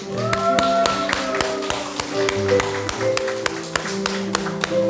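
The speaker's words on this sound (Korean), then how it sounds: "그래서 우리 먼저 박수로 축하합시다." Church congregation applauding during a Sunday worship service, a dense steady patter of many hands clapping throughout, with some tonal music or instruments sustaining underneath.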